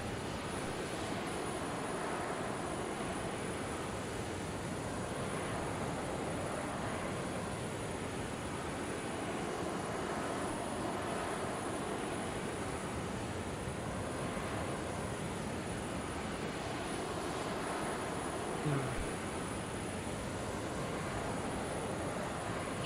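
A flight video game aircraft engine held at full throttle: a steady, unbroken roaring drone at even loudness for the whole stretch, with no voices over it.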